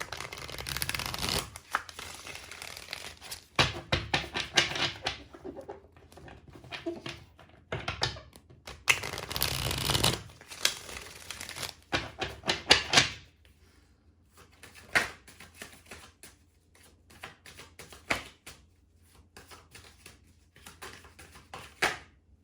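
Tarot cards being shuffled by hand in repeated bursts of crisp riffling and flicking, loud and close, separated by short pauses and quieter tapping of the deck.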